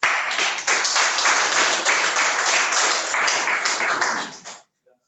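An entrepreneurs' evening audience applauds loudly to welcome a speaker to the stage, a dense, continuous burst of clapping that cuts off abruptly just before the end.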